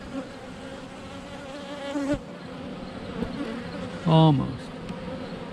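Honey bees buzzing around an open hive during an inspection, a close, continuous droning hum with one louder bee sweeping past near the mic, and a brief spoken word midway.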